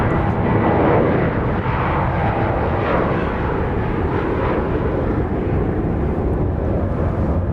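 A Southwest Airlines airliner at Dallas Love Field roars steadily and loudly, with broad jet engine noise holding for the whole stretch and no talk over it.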